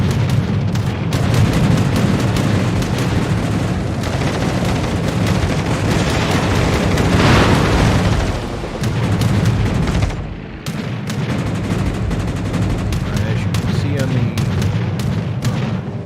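Naval guns firing high explosive shells in World of Warships, heavy booming blasts rumbling near and loud over a steady din of battle, with a brief lull before the firing resumes.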